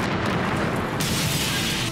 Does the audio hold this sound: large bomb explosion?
yes